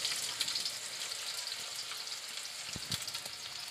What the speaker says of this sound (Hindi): ऑयल के गर्म होते ही मैं ये चंद कड़ी पत्ते इसमें डाल दूँगी